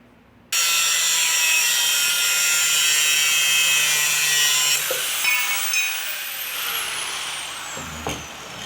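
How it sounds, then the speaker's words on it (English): An angle grinder cutting through an old metal bed frame starts abruptly and runs as a loud, continuous, harsh high-pitched shriek and hiss for several seconds, then eases into a lower, wavering grind. "I guess I'll get the grinder out"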